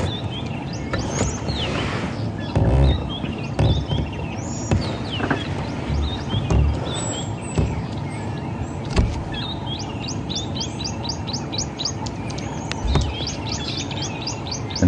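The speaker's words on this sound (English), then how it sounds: "we've got a tawny flanked prinia, we've got some ringneck doves." Dawn chorus in the bush with ringneck doves and a tawny-flanked prinia calling, layered bird chirps and rapid repeated notes over a rustling outdoor background, near and moderately loud, no speech.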